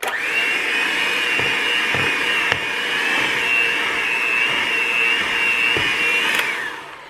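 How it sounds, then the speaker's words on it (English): An electric mixer whirs steadily, blending a wet paper clay mixture made with glue, a loud, continuous high motor whine lasting several seconds with a few faint knocks and no talking. "I'm gonna use the mixer for this."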